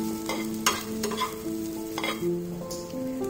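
Spiced potato (aloo) mixture with turmeric being stirred in a frying pan for vada pav filling, a close scraping and sizzling sound with several sharp spoon strokes over a steady fry, no talking.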